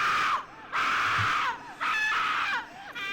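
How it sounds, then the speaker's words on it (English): A shrill, piercing scream from the horror game Slendy Tubbies repeats in several loud bursts separated by short silences, close and harsh. "This is the scream from Slendy Tubbies."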